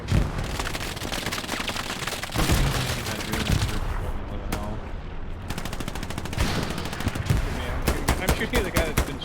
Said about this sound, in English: I'm shooting at the guy that's been firing at these guys down the road here.